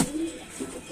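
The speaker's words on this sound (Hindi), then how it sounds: "ये कबूतर जो पकड़ा हुआ था," A pigeon gives a short, soft coo, close by but quiet, over faint background hiss.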